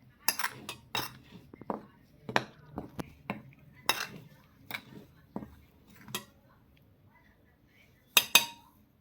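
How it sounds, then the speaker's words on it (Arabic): Metal cutlery clinking and scraping against a bowl while biscuit dough mixture is stirred, a series of sharp irregular clinks close by, with brief talk now and then. "بس فاحنا هنقلب كده"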